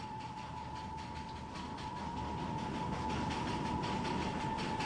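A train rumbles steadily along rails as it approaches the Batasia Loop, a full circular curve where the track turns back over itself, with a sustained metallic wheel squeal over the rolling clatter, close and loud.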